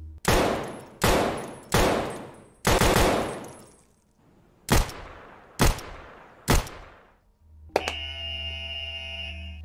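Seven loud, sharp pistol gunshots fired singly at irregular intervals, each a close, hard crack followed by a short decaying echo. A steady electronic tone sounds after the final shot.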